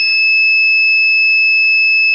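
An electronic buzzer in an ESP32 warning-system project emits one steady, loud, high-pitched continuous tone that sounds alone and cuts off at the end.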